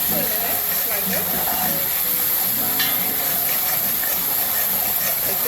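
Curried goat stirred in a hot pot, sizzling and hissing steadily with scraping stir sounds, close and continuous under a high steady hiss.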